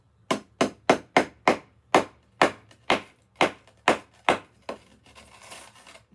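Sharp hammer strikes on a screwdriver chip at lava rock, about a dozen close, crisp taps in a quick uneven rhythm before a short scraping rustle, with no talk.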